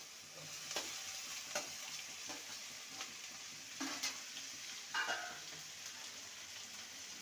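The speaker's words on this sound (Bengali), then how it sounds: "মশলার সাথে আলু আর কুর্দিকে ভালো করে কষিয়ে নেব" Potatoes and kundru (ivy gourd) stir-fried in oil-releasing masala in a pan, a steady close sizzle with repeated scraping strokes of a spatula and occasional pot clinks, no talking.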